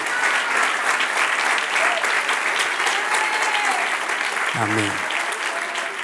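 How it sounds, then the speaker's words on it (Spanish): A church congregation breaks into sustained applause during a Christian sermon on mature faith, dense clapping filling the room throughout, with a voice briefly calling out near the end. "Dale un aplauso al que vive"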